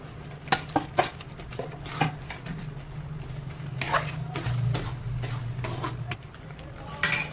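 Spices such as cumin, chilli and coriander with sugar drops are added to a pot for a jamun pickle and stirred. Loud clatter and scraping of a spoon against metal come in bursts over a low simmering hum.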